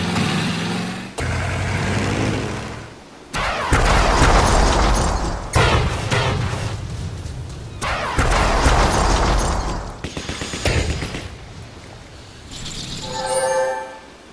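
Artillery fire and explosions from the strategy game Battle Worlds: Kronos come as a string of heavy booms and rumbling blasts, loud and close, separated by brief gaps and ending with a softer mechanical rattle, with no speech.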